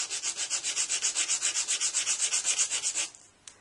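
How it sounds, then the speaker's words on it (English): A small model jetway piece rubbed flat on sandpaper, a fast steady series of about twenty close, rough scraping strokes that stop abruptly, followed by a faint tap. "you take your sandpaper"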